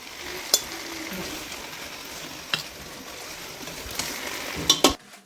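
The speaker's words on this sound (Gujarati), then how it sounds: "મરચાં લસણ રાઈ અને જીરું એનો વઘાર કરવાનો" Chilies, garlic, mustard seeds and cumin sizzle in hot oil for a tempering, a continuous close frying hiss broken by a few sharp pops and spoon-against-pan clinks near the end.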